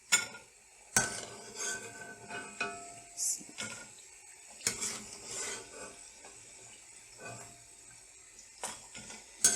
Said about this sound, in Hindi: हिलाते रहना ताकि इक्वली सब जगह से ब्राउन हो